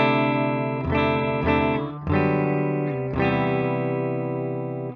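Loud, close distorted electric guitar through an IK ToneX capture of a Tone King Imperial amp, strummed chords in several bursts, with a thick saturated amp tone that sustains between strums.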